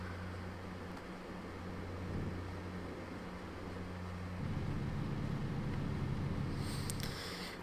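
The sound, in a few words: truck engine in video game American Truck Simulator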